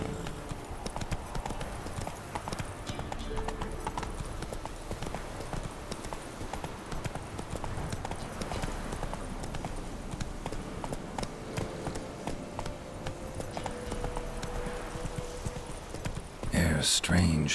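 Roach the horse gallops in The Witcher 3 video game, with rapid rhythmic hoofbeats running steadily under a music bed, and a brief louder clatter near the end.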